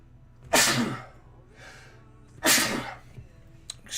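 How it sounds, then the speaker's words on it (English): Two loud, close sneezes about two seconds apart, each a sharp burst followed by a breathy tail, with a quieter breath between them and a faint click near the end. "Just sneezing like crazy."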